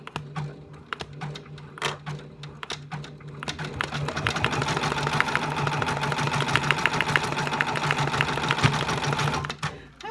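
A Brother Persona PRS embroidery machine stitching a mermaid design onto a hooped hat, with a steady, rapid mechanical needle clatter that starts softly, then runs loud and continuous before stopping near the end.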